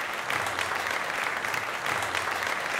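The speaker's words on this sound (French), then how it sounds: "je voudrais également que l'on vous applaudisse" An audience applauds steadily at a gathering in Israel, a soft, even wash of many hands clapping that continues without pause.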